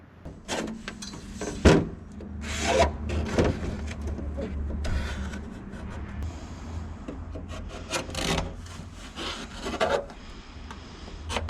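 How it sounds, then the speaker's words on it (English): Sanding a carbon fiber composite panel and the frame of a Stohr WF-1 race car, a continuous gritty rubbing rasp in repeated back-and-forth strokes with occasional louder scrapes, close by and with no talking. "we're gonna start by sanding both my composite panel and the frame to make sure that the epoxy has the best chance of adhering"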